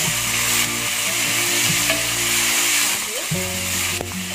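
Beef and broccoli stir-fry in a pan with a continuous loud sizzle, spatula scrapes and stirring clatter throughout, steady and close.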